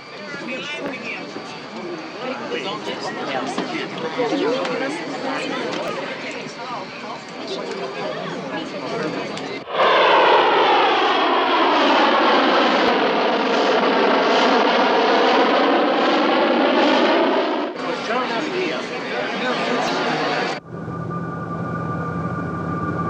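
An airplane comes in to land in a 1977 film, its aircraft engines roaring loud and steady throughout, with a strong drone and sudden cuts in the sound.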